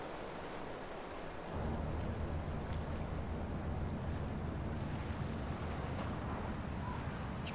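Water and waves from the dungeon game Legend of Grimrock 2, a steady broadband wash of surf with a wind-like hiss that swells after the first second and carries on evenly, no voices present.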